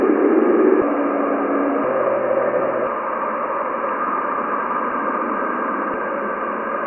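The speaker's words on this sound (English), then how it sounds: "This is the sound of the plasma waves in Jupiter's ionosphere." Plasma waves in Jupiter's ionosphere recorded by a spacecraft: eerie static-like hiss with faint low tones that step and shift in pitch, a steady droning wash of electronic noise throughout.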